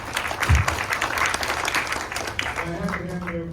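An audience at a city planning talk bursts into a short round of applause, clapping loudly at first and then fading over a few seconds as a voice begins speaking over it.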